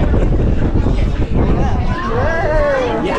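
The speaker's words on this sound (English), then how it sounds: "it's cold and very windy" Strong wind roars and buffets the microphone continuously, with people talking and laughing under the gusts.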